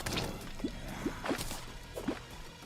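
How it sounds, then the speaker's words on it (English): Soft watery drips in the video game Terraria, Drunk World Master Mode: four or so isolated plinks spaced irregularly over a faint background hum, with a low thump between them. "I'm hearing too many drips from everything around here."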